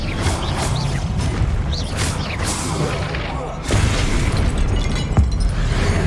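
A Confringo spell explosion in Hogwarts Legacy, several booming bursts and blasts over busy game noise, with a voice talking across them.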